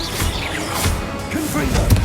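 Spell impacts from Expelliarmus, a disarming spell in the Hogwarts Legacy video game, land as a dense jumble of whooshes, thuds and cracks, with a louder hit near the end, over game music and voices.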